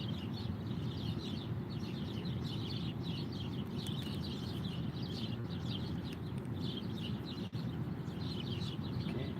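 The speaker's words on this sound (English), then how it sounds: "There are birds and not cicadas." Birds chirping outdoors after dark, a faint, continuous rhythmic pattern of repeated calls over a steady low background rumble, with no talking.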